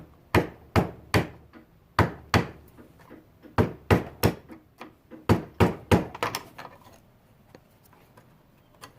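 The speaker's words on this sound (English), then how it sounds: "Took me a while to hammer this thing out." Sharp metal hammer blows knocking out a stuck metal bracket on a Jeep Comanche, striking in irregular clusters of two to four, each ringing briefly, close and loud with short pauses between.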